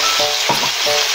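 Meat and bitter gourd (ampalaya) sautéing in a pan just after soy sauce goes in, a loud steady sizzle with a few short stirring scrapes, close and without talk.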